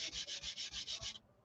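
A wooden saddle for a century-old Bruno banjolin is hand sanded in quick back-and-forth strokes, about eight even rasping passes close by, which then stop abruptly into quiet.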